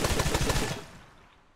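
Gunfire from a weapon in the naval game Blazing Sails: a rapid burst of about ten loud close shots over the first second, then a fading tail with no talk.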